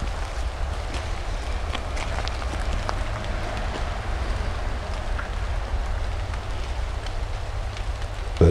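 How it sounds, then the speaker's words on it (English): Rain falls steadily through Arkansas woods, a constant even hiss of patter with no voices and little change in loudness. "Been raining and hoping the rain is passing."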